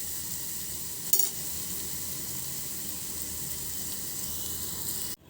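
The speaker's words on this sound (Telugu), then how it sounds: "ఉప్పు వేసి ఇంతకుముందు ఉడకబెట్టుకున్న పప్పులో పోపు వేసేసాను, కలిపేసాను." Spices for a dal tempering sizzle steadily in hot oil, a constant crackling hiss throughout, with a brief louder stir or clatter near the start and a sharp drop at the very end.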